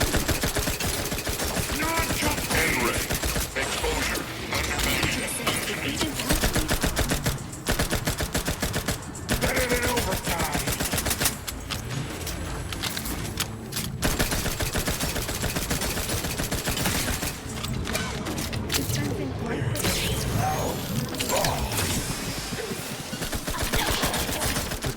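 Rapid automatic gunfire from a weapon in the video game The Outer Worlds 2, dense continuous bursts with brief gaps, loud and close throughout.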